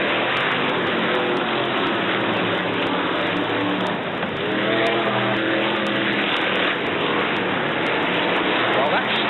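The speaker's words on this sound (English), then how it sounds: "The 100 car just goes flashing through." Brisca F1 stock cars race at Brafield in 1983, their engines roaring loudly and continuously as one car flashes past, with a commentator talking over the noise.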